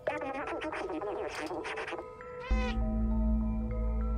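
A cat in the video game Stray meows several times in quick succession, clear and close, before steady in-game ambient music takes over.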